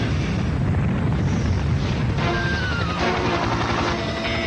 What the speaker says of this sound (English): We have ignition. We have liftoff.